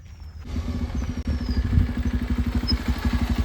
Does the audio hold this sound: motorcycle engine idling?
yes